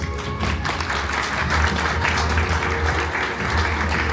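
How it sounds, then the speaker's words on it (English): Steady applause from a bar audience at a live stage show, continuous dense clapping close by that holds at an even level throughout with no speech over it. "Wonderful, give her a round of applause."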